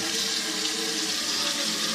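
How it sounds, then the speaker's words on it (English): Tap water pours steadily into a big pan at the start of a batch of rhubarb and ginger cider, a continuous close hiss-and-splash filling with no voices. "I'm just using tap water to begin with."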